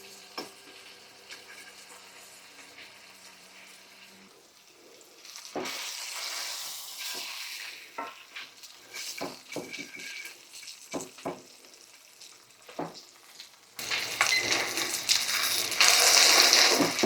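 Meat frying in a pan over medium-low heat, a steady hiss that swells loudest near the end, broken by clicks and scrapes as the meat is turned or handled, with no talking.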